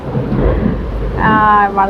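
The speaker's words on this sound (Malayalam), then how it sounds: "ഭയങ്കര മഴ പെയ്യുന്നുണ്ട് ഇവിടെ കേട്ടോ. നല്ല ഇടിയും മഴയൊക്കെ ഉണ്ട്." Heavy rain falls with thunder outside a garden plant shop, a continuous loud rushing wash with deep low rumbles, and a brief high tonal whine rising near the end.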